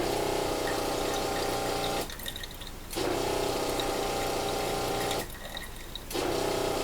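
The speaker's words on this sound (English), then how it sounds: "Now you can hear the pump pulsing in and out, and there's only a trickle of water coming out of here" An off-grid water pump runs with a steady hum and trickling water from an open tap, cutting out briefly twice and restarting, pulsing in and out.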